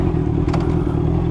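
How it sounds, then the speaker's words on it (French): Honda CB650R 2020 motorcycle in A2 restricted trim with an aftermarket exhaust, its four-cylinder engine running in a steady, loud, close drone with a brief rise in the middle and no talk. "Test de la Honda CB650R 2020 A2."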